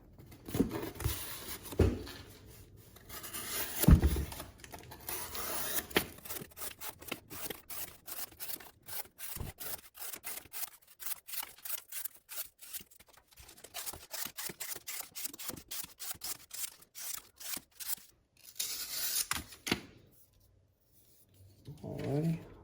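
A Civivi Elementum button-lock knife with a sharp factory edge slicing through cardboard, giving a run of quick rasping, scratchy cuts in close succession, close and fairly loud, with brief quieter pauses between strokes.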